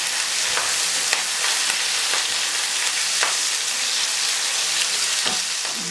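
Fresh curry leaves are dropped into hot oil in a pan for kali masoor dal, giving a dense, steady crackling sizzle close up, with a few sharp pops and spoon scrapes scattered through the brief stretch; no voices.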